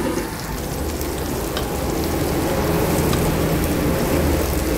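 Garlic and onion sauté in hot oil in a pan as the start of a pork kaldereta, a loud, dense, continuous sizzle that holds steady throughout with no voices.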